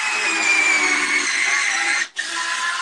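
Power drill boring holes into a coconut husk planter, a steady close whine with a very brief drop in the middle before it picks straight back up.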